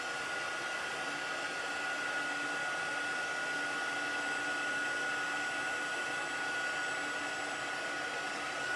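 A heat tool blows continuously while embossing a small paper craft area, giving a steady, even whooshing hum with a faint whine, unbroken throughout.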